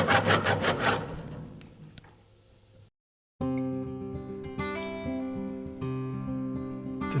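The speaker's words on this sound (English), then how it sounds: "I'm going to take a handsaw and notch that just a little bit" Handsaw notching an oak wash stand leg, a burst of rapid rasping strokes, then faint scraping, a brief silence, and a return of steady tonal ringing.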